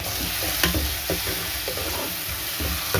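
Aloo gosht frying in a pan while being stirred, a steady sizzle with repeated scraping clicks of the spoon against the metal, close and moderately loud, no talking.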